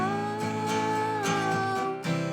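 Steady acoustic guitar chords ringing out with strummed accents every half second or so, bright and close, no voices.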